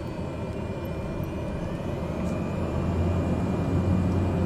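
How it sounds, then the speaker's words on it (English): Propeller engine of a Cessna Caravan in Microsoft Flight Simulator running after start-up, a steady low drone that grows slightly louder and fuller, alone without talk. "We've got a good engine start"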